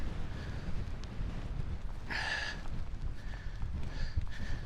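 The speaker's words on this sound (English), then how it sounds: "the wind is only getting more fierce and stronger" A fierce, strengthening wind blows across an exposed, shelterless stretch of the Scottish coast near the Gretna border. It makes a steady, rough low buffeting roar against the microphone, with brief gusty swells.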